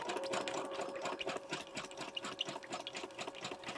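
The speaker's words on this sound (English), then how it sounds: "So I'm just going to start sewing." A sewing machine stitching thick paper runs steadily, its rapid mechanical stitching chatter close and continuous, with a faint high squeak from the bobbin running underneath.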